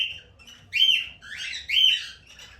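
Shrill cockatiel chirps come in two or three bright bursts close by, with quieter warbling between them and a faint low murmur underneath, at a breeding setup.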